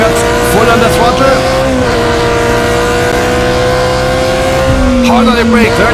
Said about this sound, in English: Acceleration over the curbs, full under throttle